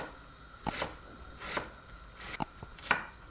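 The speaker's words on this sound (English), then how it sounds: "I'm gonna cut one big onion" A knife cuts a big onion on a board, five or six crisp, separated chops at an unhurried, uneven pace, close and fairly quiet, with no talking.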